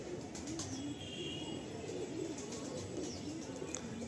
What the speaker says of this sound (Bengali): এই যে একই সেম পায়রা আছে